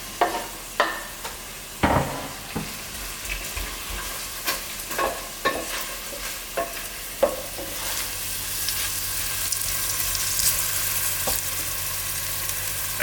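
Chopped soy and onions sizzle steadily in a hot frying pan, with irregular sharp clanks and scrapes of stirring punctuating a continuous hiss, close and fairly quiet, no talking.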